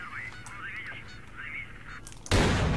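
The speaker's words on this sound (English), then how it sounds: "they're making duck noises or geese noises" Crows in the video game STALKER: Call of Pripyat (Misery mod) give several honking, goose-like calls alone against ambient game noise, ending in a sudden loud broadband burst.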